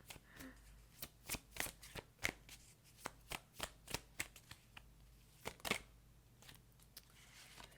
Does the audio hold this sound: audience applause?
no